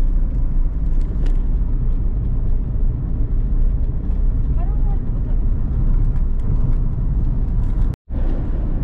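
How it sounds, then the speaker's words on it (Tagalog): Steady road traffic on a busy main road, a continuous low rumble of passing cars heard from inside a moving vehicle, with a brief dropout near the end. "medyo traffic na pag dito sa main road"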